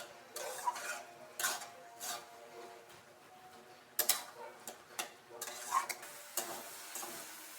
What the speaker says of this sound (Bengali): এখন ভালো করে এভাবে নাড়াচাড়া করে একদম